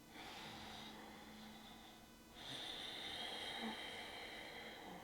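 Slow ocean-like Ujjayi throat breathing during a mindful yoga flow, a steady breathy hiss that swells louder on the second, longer breath, close and continuous with no talking.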